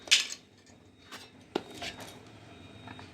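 Ridge gourd skin being peeled with a knife in a home kitchen, giving a few faint, light scraping clicks of blade on the vegetable, with short sharp ticks scattered across a quiet background.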